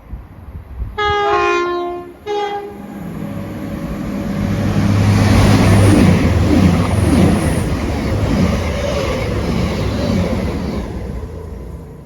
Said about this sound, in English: About to pass by is going to be a cross-country service from Birmingham International to Manchester Piccadilly via Macclesfield.